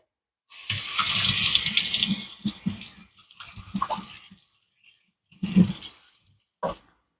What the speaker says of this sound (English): you can actually hear that water going